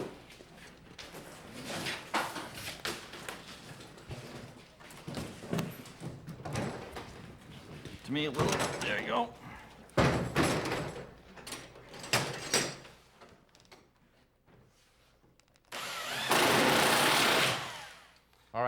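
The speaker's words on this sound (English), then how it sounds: "we're ready to take the third section of the door and put it in place" A heavy garage door section is lifted and set into its track, with clattering, sliding and knocking of panels and hardware, a loud scraping rush near the end, and people talking briefly while they work.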